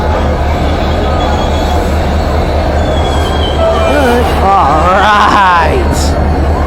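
Loud rumble of a locomotive, number 8824, rolling past, with wheels squealing in rising and falling tones toward the end. People talk over the steady roar.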